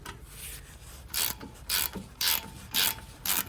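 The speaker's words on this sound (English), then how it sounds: "after the power bar, we can just get a ratchet" Small ratchet wrench working the front brake caliper bolts on a Mercedes B-Class W246, five crisp clicking bursts at an even rhythm, close and clear, with no talk.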